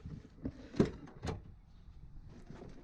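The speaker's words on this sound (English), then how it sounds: "So, I've got to open up the door." Car door with a broken handle being worked open: a few dull knocks and clunks, one louder thump in the middle, quiet and close.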